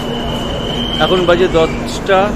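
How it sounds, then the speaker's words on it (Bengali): Doon Express passenger train running after leaving Howrah, a steady low rumble and hum inside the coach beneath a person speaking briefly. "একদম রাইট টাইমে আমাদের ট্রেন ছেড়ে দিল।"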